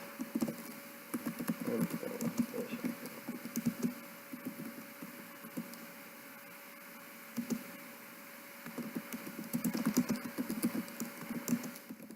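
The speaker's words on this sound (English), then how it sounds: "Let me type. Hold on." Someone types on a computer keyboard in irregular bursts of close, soft clicking and tapping, with short pauses between runs of keystrokes over a faint background hiss.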